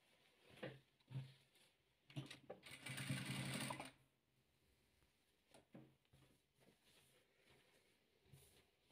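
A sewing machine stitching patchwork fabric strips, running in short bursts with one longer continuous run in the middle, close and fairly quiet with soft handling taps between runs.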